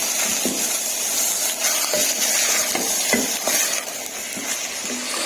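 Minced meat qeema sizzles steadily in a hot pan while being stirred, with repeated scraping strokes of the spoon against the metal over a constant frying hiss, close up and without any talking.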